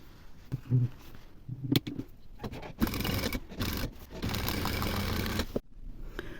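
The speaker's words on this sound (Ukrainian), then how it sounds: "Пояс підгортаю на виворітний бік і закріплюю строчкою в шов" A sewing machine stitches the waistband of a faux leather skirt. The sound is a steady mechanical whirr of stitching lasting a few seconds, with soft handling noises before it starts.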